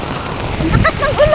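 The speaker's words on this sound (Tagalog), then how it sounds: "Ang lakas ng ulan." Heavy rain pours down steadily in a town during a thunderstorm, a constant close hiss with someone speaking over it briefly.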